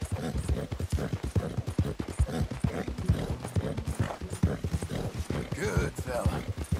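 Steady hoofbeats of a horse trotting in Red Dead Redemption 2, close and rhythmic throughout, while someone talks to the animal over the clopping.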